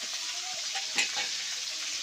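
Oil sizzles steadily in a kadhai on a wood-fired stove, cooking an aubergine and potato curry, a constant hiss with a brief clink partway through and no voices.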